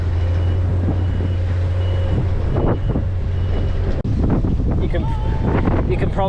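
Strong coastal wind roars and buffets the microphone while cycling the Hadrian's Cycleway near Whitehaven, a steady loud rumble throughout with gusts, and bits of voice underneath.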